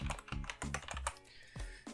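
Quick bursts of keystrokes on a computer keyboard as a project name is typed into the Lightworks 14.5 editing program, close and crisp with uneven rhythm and short pauses, no voices.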